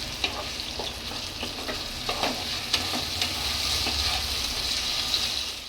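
Onions and potatoes frying in a home kitchen pan for a chana dal fritter curry, a steady sizzle with occasional stirring scrapes and clicks, fairly close and alone without talk.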